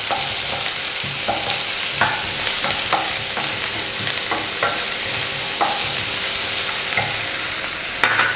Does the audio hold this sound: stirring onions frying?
yes